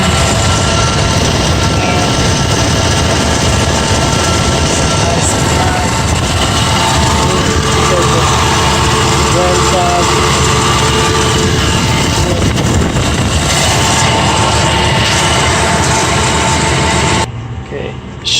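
Nissan Xterra or Frontier engine idling steadily during an oil change, a loud continuous hum and rumble that drops away near the end.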